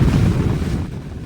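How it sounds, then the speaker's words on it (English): Two huge boat engines push out toward a northern reef, giving a steady, loud low roar mixed with wind buffeting the microphone and rushing water. "2 huge engines screaming to the northern reef"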